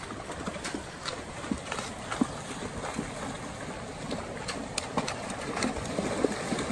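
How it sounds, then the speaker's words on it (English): Continuous splashing and rushing water with scattered hoof clops as horses move through a river, steady and fairly close, with faint bird calls. "There's nothing funner than going through a river on a horse."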